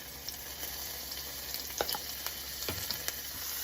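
Cabbage, carrots, ginger and garlic sizzling in a hot pan for egg rolls, a steady frying hiss broken by scattered pops and crackles, close and moderately loud with no talk.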